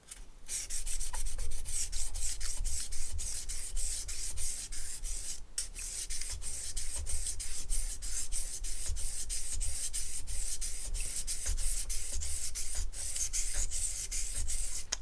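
A knife blade with a broken tip rubs back and forth on a sharpening stone in a continuous gritty scrape, steady and close, with faint ticks and brief louder scuffs through it.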